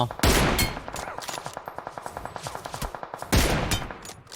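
Automatic gunfire in PUBG Mobile: two loud shot bursts bracket a steady rapid rattle of rounds, a fast evenly spaced stream of cracks running throughout with no talking.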